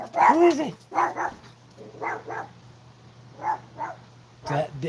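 A dog gives short barks and yips in loose pairs, close by, with a voice speaking around the barks.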